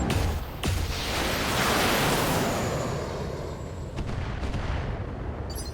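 Battlemech weapons fire in the Battletech video game, a dense, continuous roar of heavy cannon and missile blasts that rumbles loud and unbroken throughout, with no voices.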